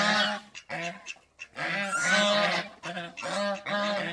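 Swans on a farm where ducks and chickens are kept together give loud, close, nasal honking calls, repeated in quick overlapping bursts with only brief pauses.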